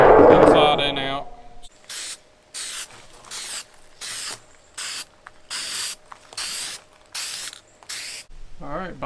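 A spray paint can applies a coat to the lid of a steel drum smoker stripped to bare metal, in about nine regular hissing bursts separated by short pauses, with a rattling sound and a voice at the start.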